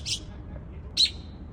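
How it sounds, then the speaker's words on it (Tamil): A small bird perched in a tree gives two short, sharp high calls about a second apart, faint against a quiet outdoor background. "மரத்துல ஒரே பறவை எத்தனை சவுண்ட் கொடுக்குது தெரியுமா?"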